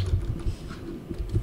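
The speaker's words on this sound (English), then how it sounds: "I can't even see where I'm typing." Fingers tap on a computer keyboard in a dark room, a close, uneven run of soft clicking keystrokes with brief pauses between bursts.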